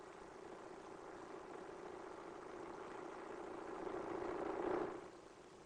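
A resting truck engine murmurs softly at night as a radio-drama effect, a low, steady hum that swells slightly near the end, then eases off, with no voices.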